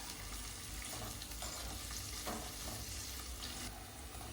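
Sliced onion frying in oil with bay leaf and asafoetida for masale bhat, a steady close hiss and sizzle with occasional stirring scrapes.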